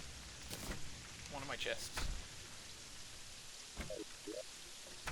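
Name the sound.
rain in the video game Terraria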